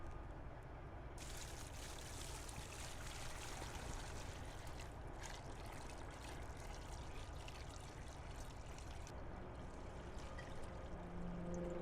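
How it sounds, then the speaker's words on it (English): A steady, continuous rush of 40 pounds of water pouring and splashing onto pavers during an infiltration test, broad and unbroken for several seconds. "we're going to pour the 40 pounds of water"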